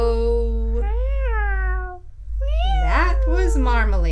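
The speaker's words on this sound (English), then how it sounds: "That was Marmalade, the family cat." Family cat meowing in a children's story, two long rising and falling meows separated by a brief pause, loud and close over a low steady hum, with a second cry that is more strained.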